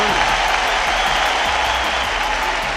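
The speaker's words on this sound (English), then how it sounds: "Hand claps." Hands clap in applause for about three seconds, a continuous dense patter of many claps at steady loudness without a clear break.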